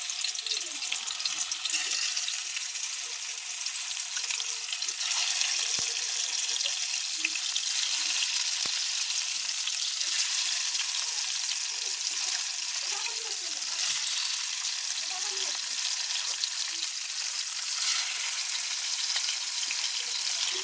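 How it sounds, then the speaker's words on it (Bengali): Pangas fish pieces frying in hot oil, a loud, continuous crackling sizzle with faint scattered pops and clatter beneath it, sustained throughout. "এখন আমরা এটা খুবই কড়া করে ভেজে নেব।"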